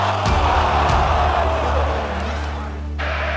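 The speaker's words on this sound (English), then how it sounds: "can hear what it means to this capacity crowd at Old Trafford." A capacity crowd at Old Trafford for a Manchester United match roars loudly and continuously, a dense sustained wall of cheering.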